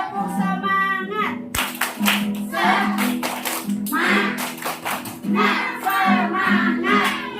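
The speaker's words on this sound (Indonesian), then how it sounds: "Tepuk semangat." Children's church group performs a spirit clap, rhythmic patterned hand claps mixed with shouted chanting voices over background music, lively and close throughout.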